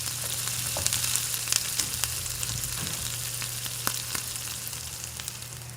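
Sliced onion and potato frying in hot oil for a Kerala-style palak chicken curry, a steady close sizzle with scattered small pops and crackles over a constant low hum throughout.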